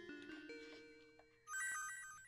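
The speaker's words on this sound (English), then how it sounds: "Oh no, I missed the bell." In the SNES game Pinocchio, a bell rings as a bright chiming tone with a ringing decay, following a stretch of synthesized game music.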